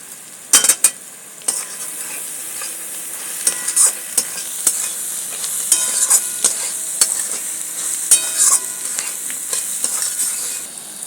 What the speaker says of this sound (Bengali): এইবারে সব কটাকে ভালো করে কষবো